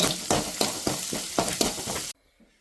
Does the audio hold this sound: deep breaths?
no